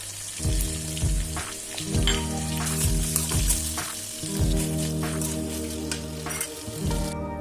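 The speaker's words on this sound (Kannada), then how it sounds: "ಈಗ ಇದಕ್ಕೆ ತುಂಡು ಮಾಡಿಟ್ಟಂತಹ ದೊಣ್ಣೆ ಮೆಣಸು, ಆಲೂಗಡ್ಡೆ, ಟೊಮೆಟೊ ಎಲ್ಲ ಹಾಕಿ ಫ್ರೈ ಮಾಡಬೇಕು" Chopped capsicum, potato and tomato frying in a pan for a ridge gourd curry, a loud close sizzle with repeated stirring scrapes and clinks against the pan, alone with no voices.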